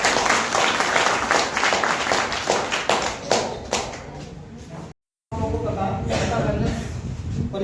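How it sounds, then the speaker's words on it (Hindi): Audience at an Ehata Wellness company meeting breaks into brisk, dense clapping that thins out after a few seconds, followed by a brief silence and then a voice speaking. "अब सबके लिए एक बार जोरदार ताली।"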